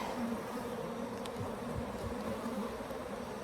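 A steady, dense buzzing of many Africanized hybrid honeybees at a top bar hive fills the whole stretch, close and continuous without pause.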